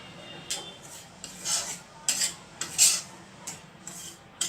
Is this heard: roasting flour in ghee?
yes